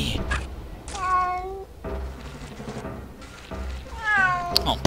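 A cat meows in Aliens versus Predator 2, giving two drawn-out, rising-and-falling cries, the first near the start and the second close to the end, separated by a lower murmuring stretch.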